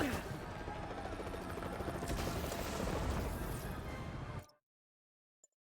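A helicopter being stolen in Marvel's Spider-Man video game, a steady loud rotor whir with mechanical rattling that runs for about four seconds, then cuts off abruptly into silence with one faint click.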